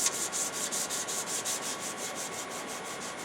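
A skew chisel blade of good steel is rubbed clean with quick, rhythmic back-and-forth scrubbing strokes, a steady hissing rasp repeating about four times per second close by.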